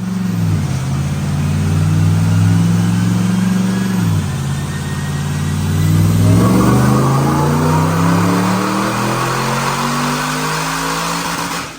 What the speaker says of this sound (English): But check out this dyno pull.